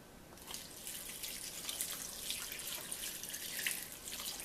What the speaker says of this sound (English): I end up adding about 12 cups or 3 quarts of water.